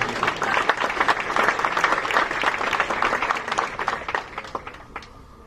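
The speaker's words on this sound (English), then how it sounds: "I think that's worth my applause." Sustained applause from a large audience at an outdoor-style ceremony for a hospital ship visit, dense clapping at steady loudness that thins and tapers slightly near the end.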